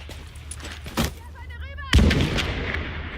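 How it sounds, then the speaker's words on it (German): Grenade blast and gunfire in the video game The Division: a sharp bang near one second, then a heavier loud explosion around two seconds with a rumbling tail, over steady game noise and brief tonal effects. "Die Granate macht ihn kalt."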